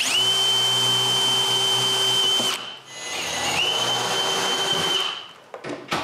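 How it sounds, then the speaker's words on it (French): A power drill bores screw holes into a wall, whining loudly at a steady pitch in two long runs with a short pause between, then spinning down at the end. "Maintenant, c'est très facile de voir où je dois percer les trous."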